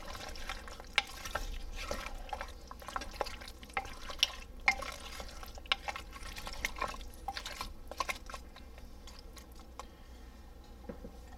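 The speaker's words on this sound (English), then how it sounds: "let's mix it up real good first" Beef and stout stew is stirred in a pot, giving soft wet squelches and irregular clicks of the spoon against the pot, close and fairly quiet with no talking.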